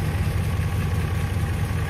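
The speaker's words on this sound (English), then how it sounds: "I'm going to start the engine and show you what's going on" 2008 Ram 1500 pickup truck engine running at idle, recorded from beneath the vehicle during wiring harness repair, a steady close low rumble with a faint even throb.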